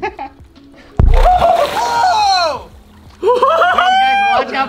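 A dry ice bottle bursting underwater: a sudden deep thump and splash erupt at close range, followed by excited voices shouting and exclaiming over the churning water.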